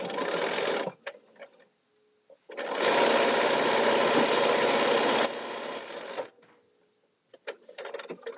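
A sewing machine runs quilting stitches in two bursts, a short one and then a longer steady run of a few seconds, each ending with a quiet pause and small clicks.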